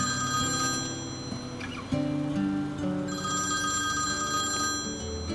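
A telephone bell rings with an incoming call, repeated trilling bursts standing out clearly over a steady background of music or room noise in a domestic drama scene.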